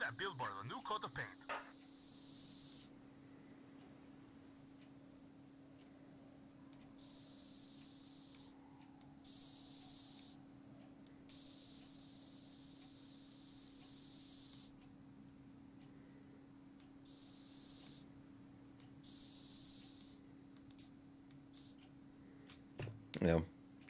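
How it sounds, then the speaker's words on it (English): In the video game Postal 4, a spray can paints a billboard, giving off repeated short hissing bursts in an irregular on-off pattern over a quiet background hum, faint overall. "Take that spray can and give that billboard a new coat of paint."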